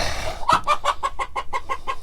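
Chickens kept in a coop on the back of a truck cluck close by, a quick run of about ten evenly spaced clucks in a steady rhythm.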